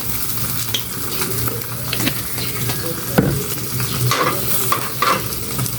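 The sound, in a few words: rice frying in oil in a pan (fried rice)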